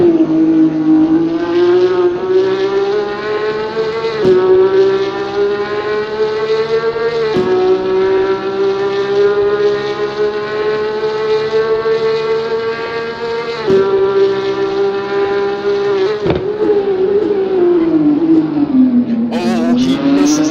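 Onboard a Porsche Cup race car lapping Sebring International Raceway, a loud sustained engine wail holding high revs, with sharp dips at gear changes and a drop and rise in pitch through a slower corner.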